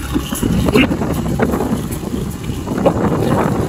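Strong, cold wind buffets the microphone in a steady low roar on a motorcycle trip in Rizal, Laguna, with a faint voice underneath.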